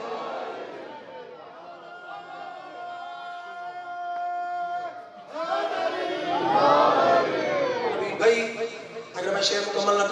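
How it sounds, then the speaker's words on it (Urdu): A mourning congregation at a Shia majlis in an imambargah raises a loud collective shout of the Nara-e-Haidari slogan, following a reciter's sustained chanted line, with the crowd's voices swelling into a dense, overlapping roar. "ہاتھ بلند کر کے نعرے حیدری"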